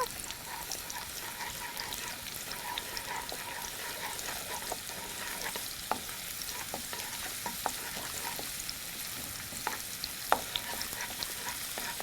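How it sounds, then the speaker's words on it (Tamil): Shallots roasting in a pan give a steady sizzle for the whole stretch, broken by frequent scraping clicks as a spoon stirs them, sounding close and fairly quiet with no one talking. "சின்ன வெங்காயத்தை நல்லா ரோஸ்ட் பண்ணி எடுத்துக்கோங்க"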